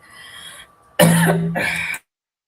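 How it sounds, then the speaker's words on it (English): A single harsh, loud cough with two rough bursts, close up, after a brief moment of quieter breathy sound. "I'm still sorry I have that cough"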